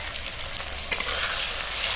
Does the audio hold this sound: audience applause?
no